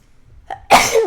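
A single sharp sneeze bursts out close by after a brief inhaled catch, loud and abrupt against an otherwise quiet room during a board game session.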